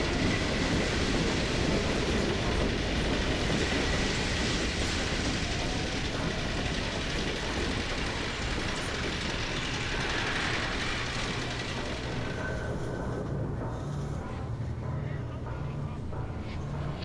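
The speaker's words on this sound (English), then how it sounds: "there goes a stalker train, probably full of human beings, going to be transformed into stalkers" A stalker train from Half-Life 2 rumbles past with a loud, dense rolling roar and clattering wheels, then fades out over the last few seconds to a quieter low hum.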